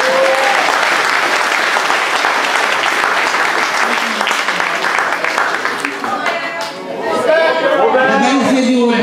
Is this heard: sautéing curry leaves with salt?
no